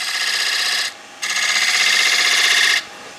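A skew chisel cuts wood on a lathe during woodturning of a storage tray, giving a steady hissing, scraping shear in two sustained passes with a short pause between, close and fairly loud.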